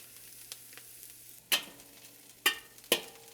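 Scallions are tossed into a hot wok for lo bak go, giving a low background sizzle broken by three sharp, bright crackling bursts as they hit the oil, with no talk.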